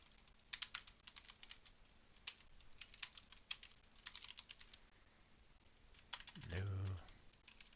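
Code being typed on a computer keyboard: bursts of quick, light key clicks with short pauses between runs, close and fairly quiet, ending with a brief low vocal sound.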